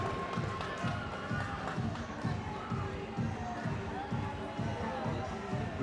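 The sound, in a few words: baseball stadium crowd cheering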